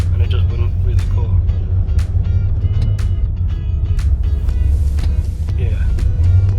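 A BMW E32 735i engine held at half throttle gives a steady, deep rumble with no rise in pitch, and faint clicks and pops come through over it while someone talks.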